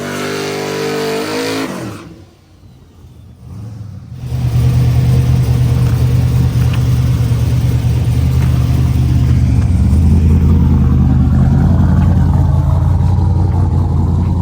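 A Camaro race car's engine idles roughly, then drops away before building into a loud, sustained, deep droning rev that holds steady and close for the rest of the run.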